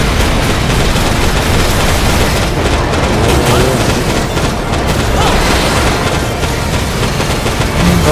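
An enemy blows up in the mech action game Daemon X Machina amid loud, dense bursts of gunfire and booming blasts that fill the whole stretch without a pause.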